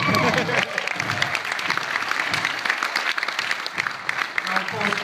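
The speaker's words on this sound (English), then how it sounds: "Round of applause, please." Wedding guests applaud during a best men's speech, with sustained clapping from the room that rises after a brief voice at the start and carries on steadily.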